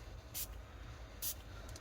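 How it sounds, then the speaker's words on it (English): A fine mini mister spray bottle used over epoxy heart molds releases two short, soft hissing spritzes about a second apart, with a faint third puff at the end in a quiet room. "you can use whatever fine spray bottle you have"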